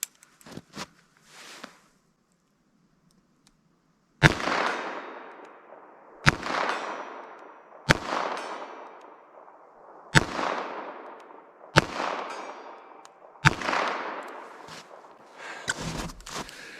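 Six loud .22 WMR rifle shots from Armscor ammunition ring out at a range, spaced a couple of seconds apart, each with a sharp crack and long echoing tail, some reports noticeably stronger than others; softer handling noises come first.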